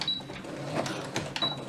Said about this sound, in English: Do a couple back stitches.